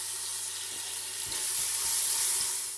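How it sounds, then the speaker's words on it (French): Grated onion and oil fry in a pressure cooker for Moroccan couscous, a steady close sizzle with light stirring clatter, no voices. "Je vais mettre mon oignon râpé. Je vais mettre l'huile."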